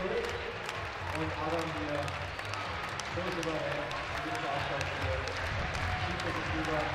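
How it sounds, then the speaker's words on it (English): A Munich crowd cheers and claps at a bouldering competition while Adam Ondra climbs, a steady roar of spectators in a large venue running continuously beneath a commentator's voice. "You could hear the Munich crowd cheering."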